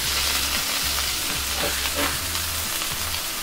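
Burger patties for Oklahoma onion smash burgers sizzle loudly and steadily on a hot griddle. A few scraping flips cut through the constant frying hiss, with a low hum underneath.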